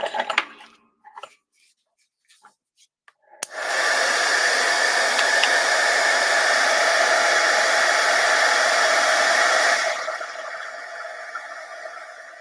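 An embossing heat tool blows steadily while melting embossing powder on a fireworks-themed craft piece, a loud continuous whooshing hum that starts abruptly after a few quiet taps and runs for about six seconds before dropping to a softer hiss.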